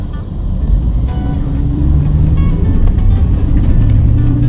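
Chevrolet Suburban on a test drive after a front-end rebuild, heard from inside as a steady low road and engine rumble with tire noise, continuous and fairly loud throughout.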